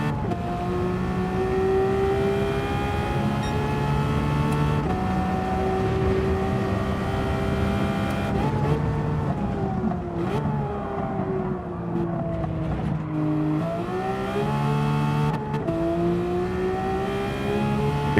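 Race car engine in Gran Turismo 7 revs continuously with steady harmonic tones rising and falling through gear changes, loud and close throughout, no talk.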